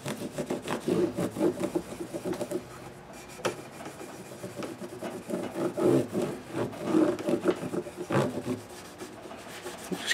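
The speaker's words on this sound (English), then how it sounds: "Just kind of wiping off the residue of the compound." Cloth wiping polishing compound residue off a guitar, a close, continuous rubbing and swishing with repeated back-and-forth strokes at moderate volume and no talk.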